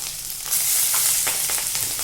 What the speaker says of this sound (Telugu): పల్లీలను ఇలా బాగా దూరగా అయ్యేదాకా ఫ్రై చేసుకోవాలి